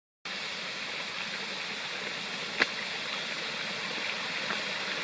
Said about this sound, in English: Here's the creek I'm camping by, going over the cliff down into the valley.